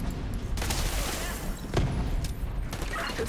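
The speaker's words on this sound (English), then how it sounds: "Explosive set. Detonating in 3," An explosive charge detonates in a video game, a loud thump rising midway over steady rumbling background action, with a voice talking over it.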